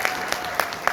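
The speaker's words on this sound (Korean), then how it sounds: "사장님들 스스로에게 박수 한번 치십시오." A few sharp, spaced hand claps at a business seminar, about four distinct hits in a second over faint room background, close and fairly loud.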